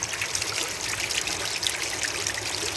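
Fresh spring groundwater trickles steadily over rocks near a falls, a close, continuous babbling flow with no voices.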